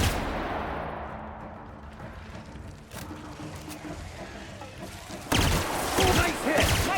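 Gunfire in a firefight in The Outer Worlds, a faint, busy mix of shots and impacts under a steady rumble, with a sharper burst of reports breaking out near the end.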